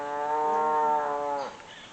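A single cow gives one long, loud, nearby moo that holds steady, then bends and trails off near the end, with no talk over it.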